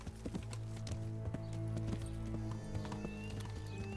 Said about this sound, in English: So I'm going to get on the horse. We're going to ride up this main road a couple times